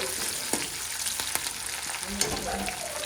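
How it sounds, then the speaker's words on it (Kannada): Green chillies fry in hot oil, giving a dense, continuous crackling sizzle that fills the whole moment, with a few faint knocks of a stirring spoon and a brief low hum near the end. "ಹಸಿಮೆಣ್ಸಿಕಾಯಿ ಚೆನ್ನಾಗಿ ಎಣ್ಣೆಯಲ್ಲಿ ಬಾಡಿಸ್ಕೊಟ್ರಿ."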